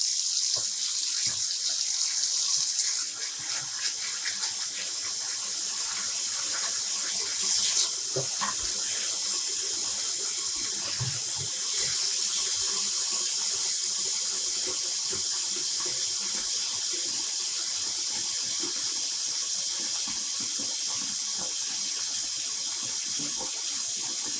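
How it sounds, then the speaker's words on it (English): Cold water runs steadily from a tap into a bowl during home yarn dyeing, a continuous bright splashing stream at close range with no voices. "So we're adding more cold water into the bowl"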